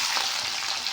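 Chopped onions frying in hot oil with green chillies in a pan for uppittu, a steady, close, bright sizzle with a light stirring scrape, no voices.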